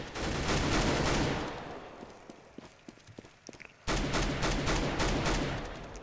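Rifle gunfire in Counter Strike: Global Offensive: loud, dense bursts of shots fill the opening, thin into a few scattered cracks, then a heavy barrage resumes and continues to the end.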